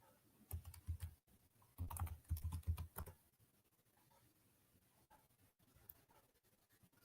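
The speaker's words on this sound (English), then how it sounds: "got to focus on what I'm typing." Keys on a computer keyboard being typed in quick bursts, close and fairly quiet, with pauses between the runs of keystrokes.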